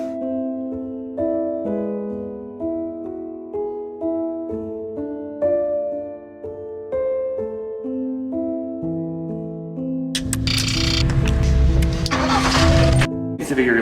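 After several seconds of melodic music, a car engine cranks and catches near the end, settling into a loud, rough idle that swells abruptly and stays prominent.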